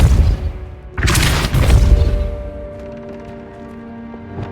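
A spell blast from the Hogwarts Legacy video game, the Depulso force spell: a loud booming burst with a rumbling tail that fades into a lingering ambient hum.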